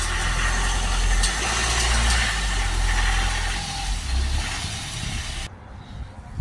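A van with an aftermarket DPF runs a steady, loud engine note as it is driven up onto ramps, the rumble shifting slightly before cutting off abruptly near the end.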